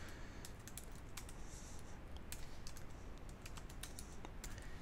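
Steady typing on a computer keyboard, with rapid irregular key clicks over a constant low hum of background noise, fairly faint and with no one speaking.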